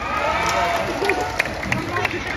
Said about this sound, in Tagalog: Kung mas gwapo si Mayor Pao, palakpak tabi.